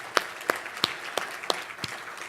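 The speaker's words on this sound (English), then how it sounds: "that deserves a round of applause." At a symposium on local solutions to environmental and energy challenges, an audience responds with applause in which sharp, separate claps land at a steady rhythm of about three per second, each one standing out clearly against a quieter background patter.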